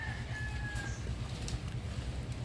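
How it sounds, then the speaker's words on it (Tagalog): A thin whistled bird call streaks briefly near the start, faint over a steady low rumbling background hum. "Ibon."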